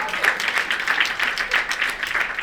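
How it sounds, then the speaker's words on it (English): An audience at a women's awards ceremony bursts into brief, lively applause, with close, rhythmic clapping that stays strong across the short stretch. "I think you should give yourselves a round of applause too."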